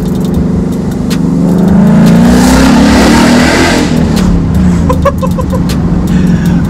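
A wrecked budget Ford Mustang GT, freshly repaired, roars loudly as it accelerates and revs, the engine note rising and swelling over several seconds before settling into a steady drone, close and without talk.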